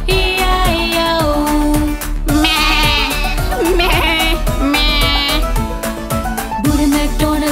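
Sheep bleating in a sung Hindi Old MacDonald nursery rhyme, the bleats woven through a loud, bouncy backing track with a steady beat and wavering vocal lines.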